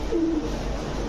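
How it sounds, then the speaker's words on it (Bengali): A large red-feathered pigeon gives a short low coo against a busy background of other birds and murmur, the call brief and fairly close. "দোনোটাই লাল গিয়ারের কবুতর।"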